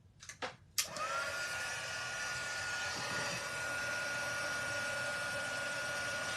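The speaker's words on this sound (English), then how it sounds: "You'll see it when we use the heat gun" A heat gun used for embossing on a handmade autumn card switches on after a few brief clicks and blows as a steady, loud broadband whoosh that runs unbroken to the end, with no talking over it.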